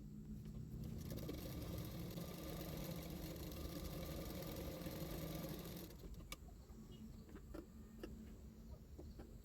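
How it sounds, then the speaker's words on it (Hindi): Faint sewing machine stitching blouse fabric for a 38-inch blouse: a quiet, steady motor whir runs for several seconds, then stops, leaving a few soft clicks. "उसके ऊपर और एक सिलाई कर दूंगी"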